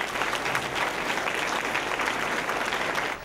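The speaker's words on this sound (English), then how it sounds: "you need to give him another round of applause" Audience applause at a city council meeting in Atlanta, a steady dense wash of clapping from a room full of people, loud and even throughout before trailing off at the very end.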